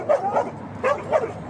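A dog barks in short yips, two quick pairs separated by a brief pause, moderately close and fairly quiet, with no other sound around them.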